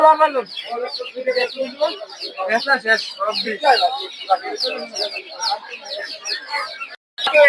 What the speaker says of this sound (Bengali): এগুলো হচ্ছে টাইগার মুরগি বাচ্চা